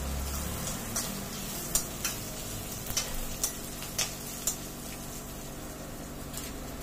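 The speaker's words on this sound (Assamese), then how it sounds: "দি গোটেইখিনি মছলাই অলপ ভালদৰে ভাজি লওঁ" Spices frying with ginger in a pan for a banana flower dish, a steady soft sizzle with occasional light clicks and stirring taps, close and fairly quiet, no talking.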